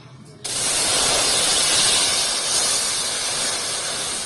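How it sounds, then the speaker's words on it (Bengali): Two 200 ml Frooti drinks hit a hot wok, setting off a sudden loud, steady hiss of sizzling that starts abruptly and holds at full strength. "আমি 200 ml দুটো ফ্রুটি কড়াইতে দিয়ে দিয়েছি।"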